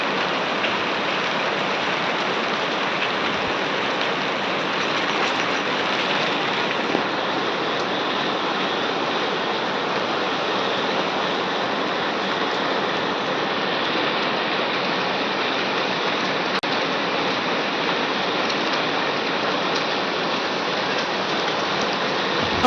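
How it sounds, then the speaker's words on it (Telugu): Steady, dense hiss of heavy monsoon rain in Telangana pouring without a break, loud and continuous throughout. "జిల్లాలలో మనకు నిన్న రాత్రి నుంచి విపరీతమైనటువంటి వర్షాలు అయితే కురుస్తున్నాయి"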